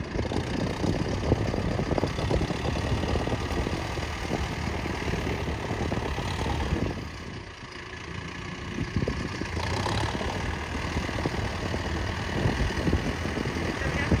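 A Mahindra Arjun NOVO 605 4WD tractor engine labors steadily while climbing through wet mud, a loud continuous rumble with a brief dip midway before it resumes at full strain.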